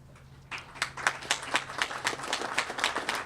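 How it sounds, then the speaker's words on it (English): Audience at a veterans cemetery grand opening ceremony breaks into applause, a sparse scatter of individual claps that swells into steady, moderately distant clapping. "If you want to give me a round of applause, Mr. Steve Murrow, ladies and gentlemen."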